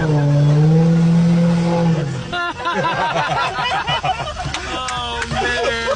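A Mercedes W140 with a 7.3 V12 engine holds a loud, steady droning rev that then breaks into rougher, fluctuating engine noise under excited voices talking nearby.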